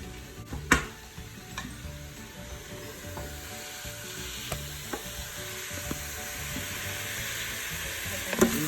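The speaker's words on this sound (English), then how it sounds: "just browning it just like you would in the pan" Ground turkey and onion browning in an Instant Pot, a continuous close sizzle broken by occasional clicks and scrapes from a wooden spoon, with no voices.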